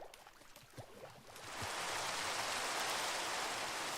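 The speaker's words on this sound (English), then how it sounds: "It's raining." Steady rain in the Minecraft video game swells in after a quieter opening and then holds as a dense, even hiss throughout, with no talk.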